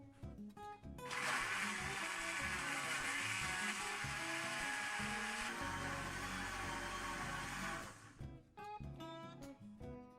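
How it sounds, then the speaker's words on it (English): A blender whirs loudly for several seconds while blending a thick, milkshake-like mixture for Bombay potatoes, starting abruptly and cutting off, with clattering kitchen sounds before and after. "And then you put your blender on, a blender jug."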